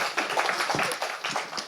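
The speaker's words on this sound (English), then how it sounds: "If you would give a round of applause to Teddy." Audience clapping as a speaker named Teddy is welcomed onto stage at a citizenship and diversity event: a short, dense burst of hand claps from a modest crowd, steady and moderately loud, with no voices.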